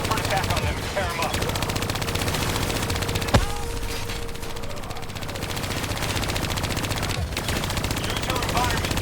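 Hijacked turrets fire continuous rapid automatic bursts in Call of Duty: Black Ops III, a dense loud rattle of gunfire running throughout with one sharper blast midway and game voices mixed in.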